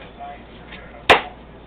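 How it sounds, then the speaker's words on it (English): A knife chopping through a watermelon, one sharp, loud thunk near the end after a quiet stretch of faint background sound. "So you take a watermelon, we're going to cut it up."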